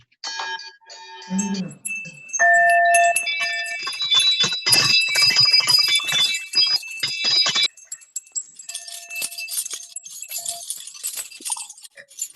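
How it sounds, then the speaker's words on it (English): Many small bells ring together at an Independence Day service, a bright jangling chorus of overlapping tones and tinkles that swells, thins, then continues as a lighter shimmering jingle. "Let us ring out our bells as chimes of freedom."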